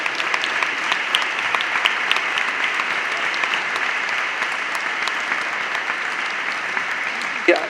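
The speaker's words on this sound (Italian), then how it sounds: "chiamerei qua Arianna e Emanuele con un bel applauso." Sustained audience applause fills a church after a charity concert, dense steady clapping from a sizable crowd throughout, with a brief louder sound near the end.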